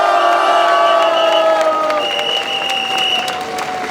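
Crowd at an outdoor disability rights rally cheering and applauding loudly, a dense wall of clapping and shouting with whistles and sustained tones riding on top.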